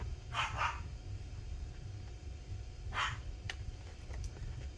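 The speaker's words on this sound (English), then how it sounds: "Sorry if you can hear him barking" A muffled dog gives a quick double bark, then a single bark a few seconds later, distant behind a constant low rumble.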